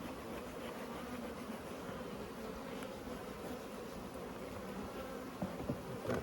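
Honey bees swarm around the edge of a large open hive, a faint, continuous buzzing drone with no voices, and a few soft knocks near the end.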